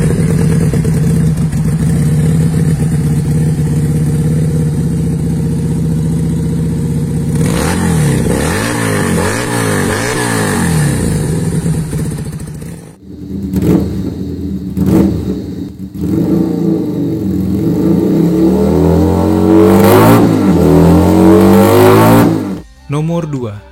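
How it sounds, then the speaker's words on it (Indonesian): An SCR 250V retro motorcycle revs its exhaust in loud, close bursts, rising and falling with a gap of quieter idle between, under music playing throughout. "kita akan dengarkan suara dari knalpot SCR"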